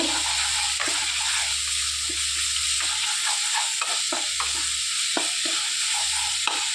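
Onion, ginger-garlic paste, salt, chilli powder, turmeric and cumin powder sauté in a pan, a loud steady sizzle broken by repeated sharp scrapes and taps of stirring, with a low hum underneath and nobody speaking.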